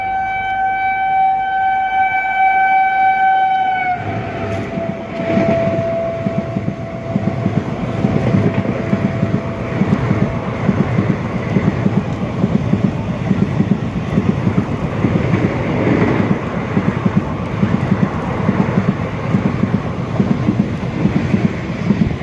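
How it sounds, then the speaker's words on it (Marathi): Gulbarga Superfast Express approaching and crossing at Salgare station: a long, loud multi-tone horn blast opens, then the train thunders past close by with a steady heavy rumble and rhythmic wheel clatter. "कुलबुर्गी सुपरफास्ट एक्सप्रेस ही ट्रेन आता समोरून येत आहे"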